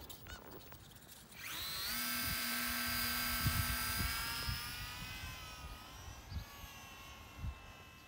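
Small electric Voltanex RC Mini Corsair model plane on its first flight, its high motor whine rising as it takes off, then holding steady and loud before drifting slightly farther away, with no talk.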